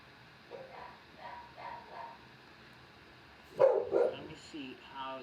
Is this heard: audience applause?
no